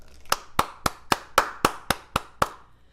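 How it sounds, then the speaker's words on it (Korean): Nine sharp, evenly spaced hand claps ring out alone at a steady rhythm during a Korean Bible lesson on Exodus, each clap crisp and fairly close, with no talking between them. "박수."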